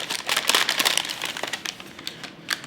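Wrapping on a present crinkling and rustling as it is opened, a close, busy run of dense crackles that thins out toward the end.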